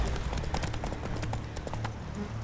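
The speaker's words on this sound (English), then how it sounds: "That's it, Roach" Horse hooves gallop in The Witcher 3 video game, a fast, rhythmic clip-clop that is close and continuous, over faint background game sound.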